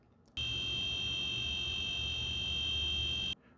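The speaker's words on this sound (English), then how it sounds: "and ring the buzzer." A buzzer on a student-built can-crushing machine sounds during a system test, one steady, loud electronic tone held for about three seconds, starting and stopping abruptly against quiet room noise.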